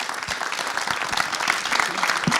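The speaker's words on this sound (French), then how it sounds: "Je pense qu'on peut l'applaudir très fort." A live audience at a TEDx-style talk event in northern France claps warmly after a speaker from a solidarity association, sustained, dense applause close to the microphone throughout.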